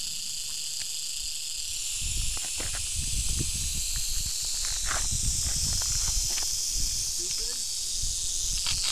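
A rattlesnake on a hiking trail gives a continuous dry, buzzing rattle close by, with occasional footsteps and rustling around it.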